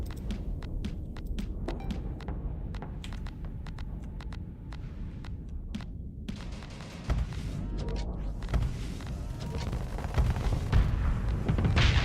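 Rapid rounds of gunfire from ship weapons in the space game Starsector, a dense run of sharp repeated shots over a low rumbling hum, growing heavier and more booming toward the end.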